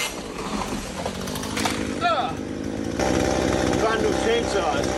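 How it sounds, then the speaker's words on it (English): Chainsaws run continuously with a loud, close, buzzing engine drone that shifts slightly in pitch, while people talk and exclaim over them. "Brand new chainsaws."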